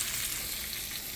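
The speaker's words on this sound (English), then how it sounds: "I'm warming up some cabbage leaves so that they're not cold and hard." Cabbage leaves warming in a pan give a steady, close frying sizzle with a bright hiss throughout, no voices.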